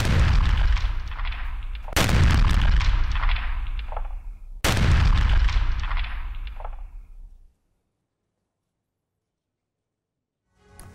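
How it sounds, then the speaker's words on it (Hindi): A drone strike blows up a Ukrainian armored vehicle carrying ammunition. Three heavy, booming blasts follow one another a couple of seconds apart, each trailing off in a rumbling decay before the sound drops to near silence. "ड्रोन के जरिए यूक्रेनी बख्तरबंद वाहन को यहां पर उड़ा दिया गया"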